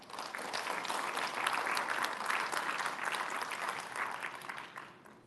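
A crowd's round of applause at a Filipino community radio special event, a dense wash of clapping that swells toward the middle and fades near the end, heard without speech.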